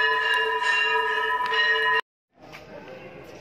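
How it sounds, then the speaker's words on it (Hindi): Temple bells ring continuously during aarti at Sheetla Mata temple, a dense sustained metallic clanging up close that cuts out abruptly, then returns fainter and more distant. "हाँ, घंटियां बज रही ना, तो हम वहीं दर्शन करने जा रहे हैं।"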